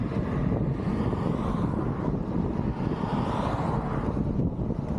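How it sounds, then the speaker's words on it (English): Strong headwind buffets the microphone while cycling on a British road in summer, a continuous loud, low roaring rumble with no talk. "Oh, that headwind."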